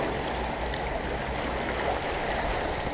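Clear water of a stream in Austria flows steadily, a continuous broadband rushing and babbling with no breaks, close and even in level throughout.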